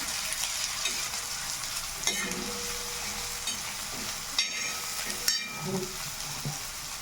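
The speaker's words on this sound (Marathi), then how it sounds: "याच्यामध्ये टर्मरिक पावडर आणि सॉल्ट ॲड करते हे फ्राय करून घ्यायचं आहे" Eggplant frying on a tawa with turmeric powder and salt added, giving a soft continuous sizzle with occasional scraping stirs and a few sharper clicks of a utensil against the pan, fairly quiet and close.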